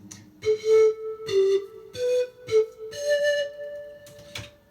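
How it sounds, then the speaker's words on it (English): A zampoña or antara panpipe blown straight down plays a short breathy melody of distinct notes, each with a puffed attack, rising in pitch across the phrase, close and clear. "zampoñas or the antaras, you have to blow straight down like this"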